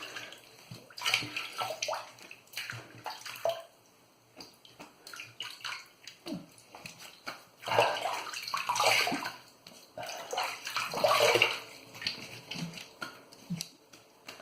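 A safety razor is rinsed under a running tap, the water splashing and gurgling in bursts of uneven loudness, close by and with no voices.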